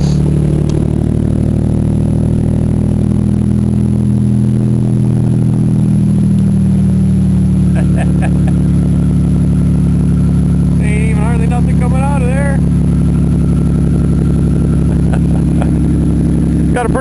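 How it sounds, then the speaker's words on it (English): A car engine runs loudly and steadily with a big exhaust leak, a constant rough low rumble close by, while someone talks over it. "it's got one heck of a exhaust leak"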